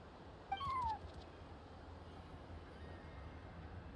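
A single short, rising-then-falling cat meow sounds from a creature in the Genshin Impact video game, heard once near the start over a low steady ambient background, with no talk.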